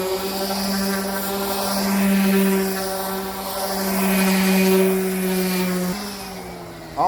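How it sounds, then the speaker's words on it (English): An orbital sander with 120-grit paper scuffs the clear finish on a wooden bed frame, a steady close motor whine that swells and eases gently before cutting off near the end. "we're going to use this 120 grit sandpaper on this orbital sander, and all I'm trying to do is scuff up the clear that's on here"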